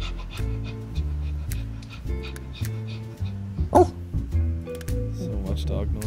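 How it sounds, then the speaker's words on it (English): A dog yips, whimpers and pants in short repeated bursts, fairly close, mixed with clearly pitched tonal sounds and people talking over it. "So much dog noise."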